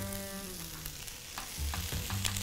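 Meat and cauliflower fry together in a pan for a raqu, giving a steady, close hiss of sizzling with small bubbling crackles that thicken slightly toward the end.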